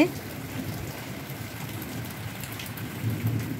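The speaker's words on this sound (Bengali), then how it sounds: "বাহিরে অনেক ঝড় বৃষ্টি হচ্ছে" Steady heavy rain pouring outdoors during an evening thunderstorm with lightning, a dense continuous hiss with low rumbling underneath.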